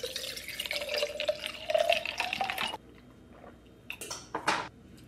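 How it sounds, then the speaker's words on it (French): Water pours into a container with chlorophyll, a close running, filling gurgle with a rising pitch for about three seconds, then a pause followed by a few splashes and squishy handling sounds. "La première chose que je fais en me réveillant, remplir ce truc. Du chlorophylle et de l'eau."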